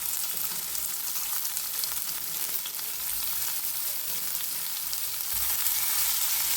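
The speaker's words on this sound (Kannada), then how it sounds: "ಈ ಥರ ಫ್ರೈ ಮಾಡ್ತೀವಿ" Onion and ginger frying in a pan, a steady bright sizzle holding even and close throughout with faint scrapes and no voices.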